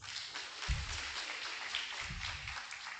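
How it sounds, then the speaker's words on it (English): Audience applause at a smart lab and robotics project launch event, a steady wash of clapping from a crowd lasting throughout, moderately distant and fairly soft. "Another round of applause."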